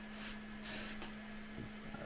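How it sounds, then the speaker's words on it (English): Glue activator sprayed onto a glued joint during a cab model assembly, three short hissing bursts close by over a steady electrical hum. "and I want to see if I can get Andrea just to give that a spray"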